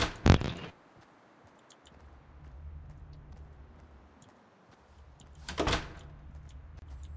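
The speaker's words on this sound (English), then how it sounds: "I'm gonna close this door behind us" A door in Fortnite thuds shut with a sharp knock near the start, then a quiet low rumble of game ambience follows, and a second similar bump lands near the end.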